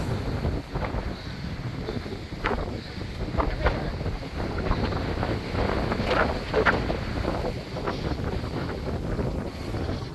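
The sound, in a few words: strong wind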